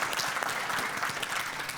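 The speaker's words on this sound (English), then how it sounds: "you don't have to clap for everything" Attendees at a live medical conference session on bladder cancer clapping briefly, a dense, even burst of applause from a sizable crowd.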